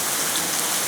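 Sirloin steak or yakiniku meat sizzling on a grill at a sumo stable's pre-tournament meal, giving a dense, continuous hiss like heavy rain, close and loud with no pauses.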